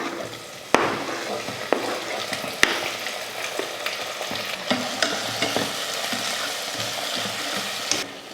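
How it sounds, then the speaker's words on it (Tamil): Onions sauté in a pan for a roadside-style kurma, a close, steady sizzle punctuated by repeated sharp spatula knocks and scraping stirs against the metal. "இது போல் வதக்கிட்டு இதில் தக்காளி சேர்த்துடலாம்"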